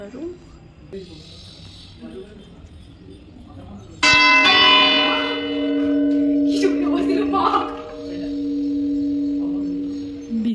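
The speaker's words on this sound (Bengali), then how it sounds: "যখন ঘন্টাটা বেজেছিল সত্যি আমি চমকে গেছিলাম" Clock tower bell at Hooghly Imambara strikes loudly after a few seconds of quiet ambient murmur, then rings on with a long, sustained, swelling metallic hum and fresh strikes as it fades.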